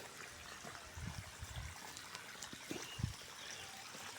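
Irrigation water trickles and flows through a farm field, a soft steady wash with a few faint splashes and gurgles, fairly quiet and with no voices.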